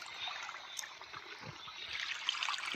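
Irrigation water trickles and gurgles into an onion field, a faint, steady flow with small splashes and bubbling, heard alone without talk.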